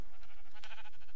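A sheep in the Minecraft video game with the Kingdoms modpack gives one short, wavering bleat, close and clear over a low hum.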